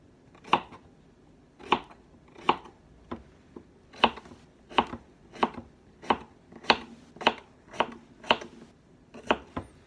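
A knife chops cucumber on a cutting board in about fourteen crisp, close, separate strokes at an uneven but steady pace, with quiet pauses between cuts.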